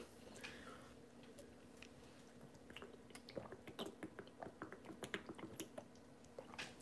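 Soft, close chewing with small moist clicks and squishes, faint and steady over a quiet low hum, no talk.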